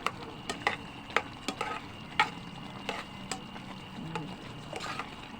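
Rice being stirred in a pot while it cooks, a steady series of light scraping and clinking strokes at close range over a soft background hiss, with no voices.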